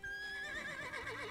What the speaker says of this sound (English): No, look at the horsey.